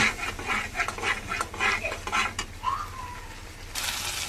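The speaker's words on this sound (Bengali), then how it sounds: "এবার আমি ভালো করে মশলাটাকে কষাবো" A spoon stirs and scrapes spice paste with turmeric as it fries in a pan for katla fish curry, making repeated rhythmic rubbing scrapes close by that fade into a softer sizzle.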